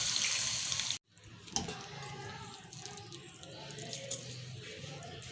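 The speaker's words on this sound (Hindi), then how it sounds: "यहाँ मैं इनमें डालती हूँ थोड़ा सा पानी, इनको करती हूँ थोड़ा नरम" Water is poured over fried dahi vada lentil dumplings to soften them: a steady splashing pour, then a short gap and a softer trickling, wet stream in a kitchen.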